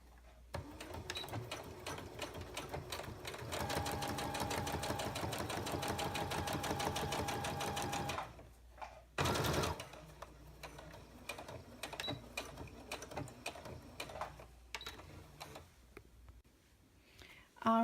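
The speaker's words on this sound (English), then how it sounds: "my needle's going down with the opening in my presser foot lined up along this" A home sewing machine top stitches along a crease in fabric, its needle running in a steady rapid rattle for several seconds, stopping, then restarting in short bursts with a brief loud clunk, quiet and close.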